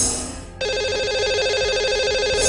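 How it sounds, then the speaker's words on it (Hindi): A telephone rings during a call-in show as a lucky caller is dialed, giving a steady electronic ringing tone that starts after a short pause and continues to the end, with no talking. "लगाते हैं इन्हें कॉल और करते हैं इनसे बात"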